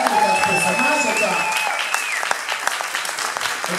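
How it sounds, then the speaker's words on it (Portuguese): A stand-up comedy audience applauds guest Robertson Lima, a dense burst of clapping that fades gradually while a host's voice rises over it. "Eu quero que vocês recebam um aplauso."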